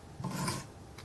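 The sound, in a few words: knife blade sharpening on Wicked Edge sharpener stone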